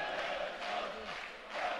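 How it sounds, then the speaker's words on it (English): An Azerbaijani crowd cheers loudly for their super heavyweight boxer at a 2011 AIBA world championship bout, a steady dense roar of voices that swells near the end. "look at the Azerbaijani crowd. Really, really letting their guy hear it"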